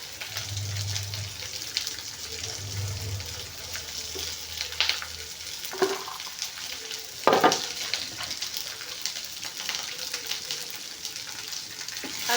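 Two dried red chillies, broken by hand, go into a hot frying pan in a village-style kitchen, where they sizzle steadily with a couple of louder crackling bursts and a faint low hum underneath.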